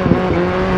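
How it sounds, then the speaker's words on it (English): A rally car engine in the video game DiRT 4 runs loud and steady, with a brief stuttering misfire near the start of a short burst of engine drone. "think that sounds like an engine misfire"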